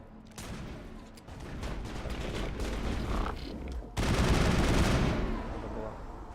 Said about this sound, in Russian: Конечно, стреляют.